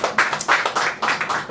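Lecture audience claps in brief rhythmic bursts of applause, several clusters of hand claps close by and moderately loud, with no voices over them.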